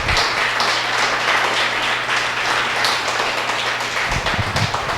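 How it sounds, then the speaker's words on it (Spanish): Applause from a church congregation, dense clapping held steady for about four seconds before thinning out near the end. "Dele otro fuerte aplauso a ese Rey de Reyes y Señor de Señores."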